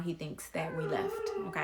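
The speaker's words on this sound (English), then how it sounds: "that's my dog in the background" A dog howls and whimpers in the background with drawn-out, wavering cries, steady and moderately loud behind a person speaking close by.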